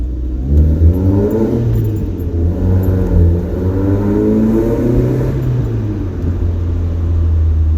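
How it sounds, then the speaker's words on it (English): A Toyota Paseo engine rumbles and revs steadily in a tunnel, its deep exhaust note rising and falling continuously at close range. "regarding the exhaust sound, I mean, like I said, it's not for everybody"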